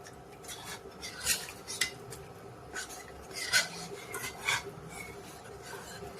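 Metal utensils scrape and clink against a pot of vegetable ragi soup in irregular strokes, close and moderately loud, with a faint background hum.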